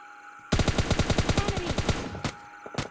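Automatic gunfire in the mobile battle-royale game PUBG Mobile Lite, a rapid burst of about fifteen evenly spaced shots over a second and a half, followed by two isolated single shots, loud and close.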